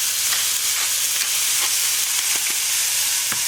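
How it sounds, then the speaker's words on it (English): Red onion confit simmers in a pan over medium heat, giving a steady, close sizzle with scattered small pops and crackles throughout. "this one we just let simmer nicely on a medium heat"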